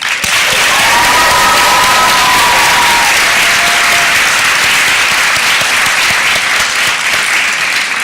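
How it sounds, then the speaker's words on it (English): Graduates applaud at the New York School of Interior Design 2018 commencement, a large crowd clapping loudly and steadily in a big hall, sustained for the whole stretch with a faint tone drifting through early on. "I call upon our graduates to give an enthusiastic round of applause to their families, friends, and faculty."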